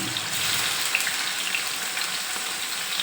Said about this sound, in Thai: ก่อนอื่นเราจะมาผัดทอดเต้าหู้ก่อนเนาะ ทอดเต้าหู้ก่อนค่ะ